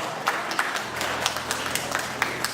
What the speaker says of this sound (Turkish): güzel alkışlar yapayım bu akşamımızın sebepçilerine